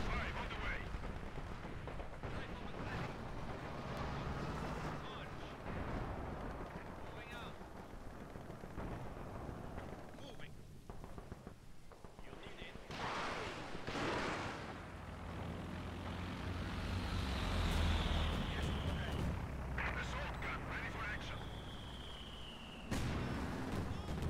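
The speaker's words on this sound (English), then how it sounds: "Incendiary artillery barrage." An incendiary artillery barrage in Company of Heroes 2 multiplayer: booming impacts and blasts over a continuous rumble of battle noise, with aircraft sweeping overhead and game voice lines over the action.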